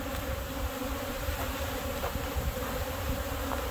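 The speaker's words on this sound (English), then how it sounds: "There's a lot of bees in the air at this point" Honey bees flying around hives during package bee making, a dense steady buzzing hum of many insects filling the air close by, with no talk.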